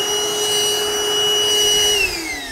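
A Milwaukee M18 2-gallon cordless wet/dry vacuum runs with a loud, steady motor whine and airflow rush, heard close and alone, its pitch dropping slightly near the end.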